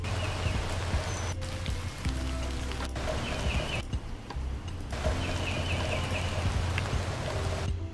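Steady rain ambience layered into a lo-fi music track, a continuous hiss of falling drops with faint crackle running under a low, muffled beat.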